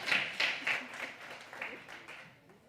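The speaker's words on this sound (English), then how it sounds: "Let's give her a round of applause." Brief, faint audience applause at a conference dialogue in Uganda, a few scattered claps fading within about two seconds under room noise.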